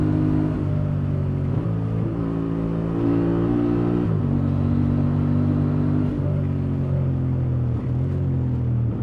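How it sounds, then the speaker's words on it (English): A Honda Transalp motorcycle engine drones steadily under load on a bumpy road, with a strong intake roar drowning out the exhaust and rising and falling revs through gear changes, close and continuous. "A lot of intake noise, can't even hear the exhaust."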